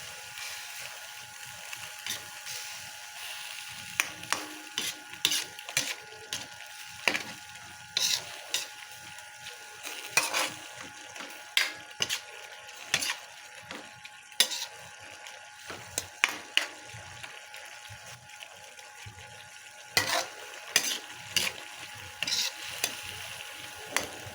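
Pork cubes for pork igado stirred in a frying pan, a steady quiet sizzle broken by repeated scraping and clacking strokes of the utensil against the pan, close by with no talking.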